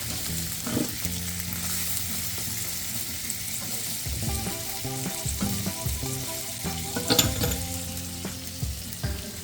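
French toast frying in a hot pan for a bacon-lettuce-tomato sandwich, a loud continuous close sizzle with crackling pops and occasional utensil scrapes, no talking.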